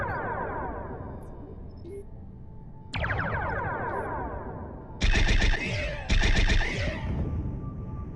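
Starship weapons fire in the Star Trek Bridge Crew VR game: a sustained buzzing energy tone swells in, then two sharp bright bursts land in quick succession near the end, loud and close, with no talking.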